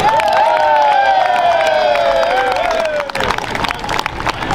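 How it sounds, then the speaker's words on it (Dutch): Outdoor carnival crowd at a Dutch market square applauds Prince Franciscus LVII and his ladies-in-waiting, loud dense clapping with cheering and a long held vocal note, the clapping sharpening into distinct claps toward the end. "Een enorm applaus."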